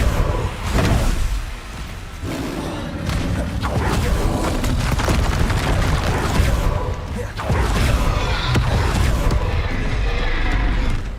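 Confringo explosion spells in the Hogwarts Legacy video game burst in loud, repeated crashes and thuds amid a dense, continuous clatter of combat effects with no talk.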